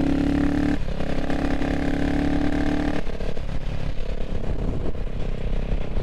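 A CCM Spitfire Six motorcycle engine drones loud and close on the road, its steady note dropping in pitch after the downshift and carrying on as a rough, throbbing hum with wind noise.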